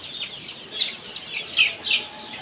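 Chickens cluck softly in a poultry setting, a few short bursts rising and falling over faint background noise, moderately close and with no talk.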